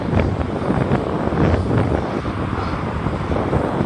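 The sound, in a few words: wind during bicycle ride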